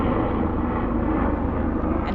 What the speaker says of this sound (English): We have to wait for the helicopter to pass till we can start reading.